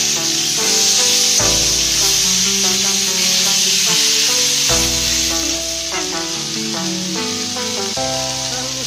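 Fried pointed gourd stirred and sautéed in a hot pan, giving a steady, loud sizzle throughout under background music.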